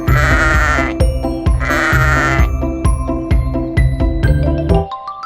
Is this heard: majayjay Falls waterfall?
no